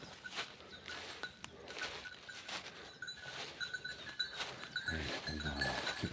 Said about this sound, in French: Oui, les chèvres, vous les entendez, les cloches là?